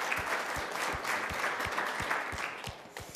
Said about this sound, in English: let's have a nice round of applause for all of our guests here who have joined us